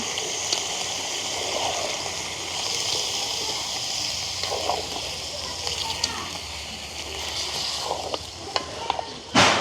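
Meat with onion and green chilli stirred in a pot over a fire: a continuous close sizzle with scraping and bubbling, a voice talking over it, and a louder knock at the end.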